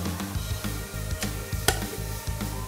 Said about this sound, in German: Gebe das Ganze in einen Blender.